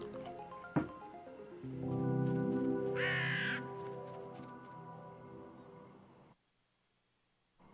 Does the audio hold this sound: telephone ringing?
no